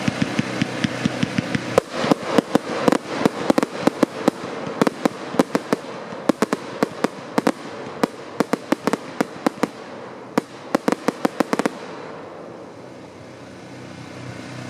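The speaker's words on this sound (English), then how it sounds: "50 shot vertical red stroke roll-up" A 50-shot vertical red stroke roll-up firework fires a rapid, irregular string of sharp cracking bursts over about ten seconds, loud and close, then stops, leaving fading background rumble.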